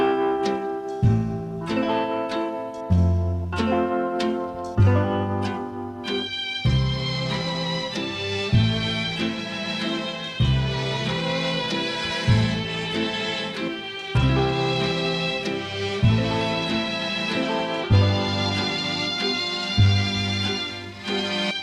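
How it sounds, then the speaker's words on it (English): A single player at a 1960s keyboard instrument produces lush, full music that sounds like an orchestra, with sustained chords and rhythmic low notes running steadily and loud throughout, no voices. "one person sitting at the keyboard of this truly wonderful instrument of the 60s"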